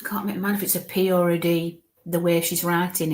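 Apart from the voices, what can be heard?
No distinct noise like a dog, phone or traffic.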